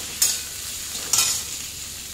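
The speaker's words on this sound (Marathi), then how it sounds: "मध्यम गॅसवर 1-2 मिनिटं आपल्याला कांदा ट्रान्सपरंट, म्हणजे थोडासा रंग बदलेपर्यंत परतून घ्यायचा आहे।" Onion sautéed on a medium gas flame, an even sizzle with two quick stirring scrapes about a second apart, close and with no speech.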